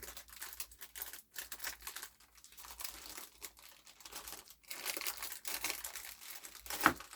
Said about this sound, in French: On va peut-être les déballer histoire d'y voir un peu plus clair.